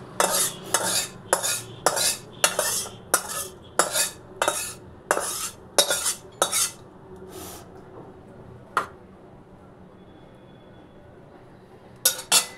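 Katla fish curry served into a dish with a metal spoon, a rapid run of sharp clinks and scrapes against the vessel, then a few isolated knocks after a pause.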